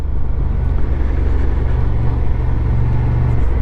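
Honda Transalp 750 motorcycle ridden in second gear on gravel, its engine a loud, steady, close drone with gritty tyre and wind noise, no talking.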